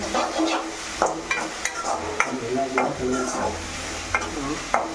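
Avalakki (flattened rice) frying in a home pan, with a steady sizzle under repeated scraping stirs and light clinks of a spoon against the pan, fairly close.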